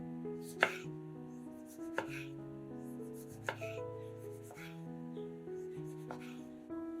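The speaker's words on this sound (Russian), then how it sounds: "Половинки помидоров нарезаем пластинками." A knife slices tomato halves on a board in several distinct, spaced strokes, each a crisp tap, heard over soft background music.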